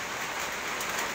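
Steady rain falls across an outdoor scuba diving training site, a dense, even hiss that holds without a break and stays fairly faint.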